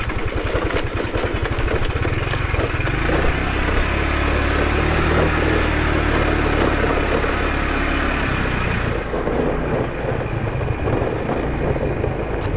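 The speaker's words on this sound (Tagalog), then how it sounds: "Ganda ng inor ng motor nito." A motorcycle engine runs steadily and loud on a bumpy, potholed road, a continuous droning rumble with no talk, easing slightly toward the end.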